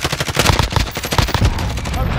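Rapid automatic gunfire from an online multiplayer shooter video game, loud dense bursts of repeated shots and impacts filling the span with only brief gaps.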